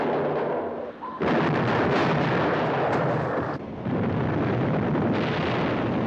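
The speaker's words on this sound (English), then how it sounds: "The depth charge bombardment begins again." Depth charge explosions from a submarine TV drama, a heavy rumbling barrage of deep booms that surge and roll continuously, swelling louder after a brief dip, with no talk over them.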